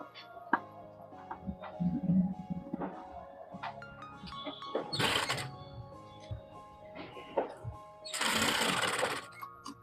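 A sewing machine stitches a canvas strip onto a blouse front in short bursts, ending in a louder steady run, with someone talking and handling noises in between.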